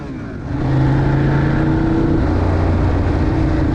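A 2016 Ducati Monster 821 ridden on bumpy Atlanta roads, a loud steady engine drone with wind rush that swells after a brief quieter start and holds at a constant pitch.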